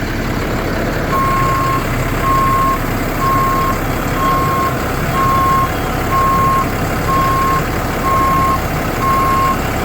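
A 2010 Ford F-750 Altec forestry bucket truck with 60 ft boom, PTO engaged, gives a loud, evenly spaced warning beep about once a second over the steady rumble of the idling diesel engine.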